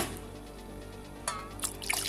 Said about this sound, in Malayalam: ഇതിലേക്ക് നമുക്ക് തണുത്ത വെള്ളം ഒഴിച്ച് കൊടുക്കാം.